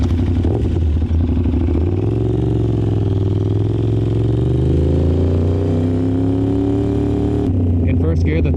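A motorcycle with a Gabro CRT exhaust idles smoothly and then swells into a steady, rising engine drone, loud and close with layered harmonic tones and a clatter at the start.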